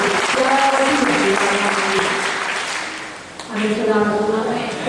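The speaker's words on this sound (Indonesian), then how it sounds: "Berikan tepuk tangan lagi" Steady applause from a church congregation fills the room during a Sunday service, with a voice talking over it and the clapping continuing loudly throughout.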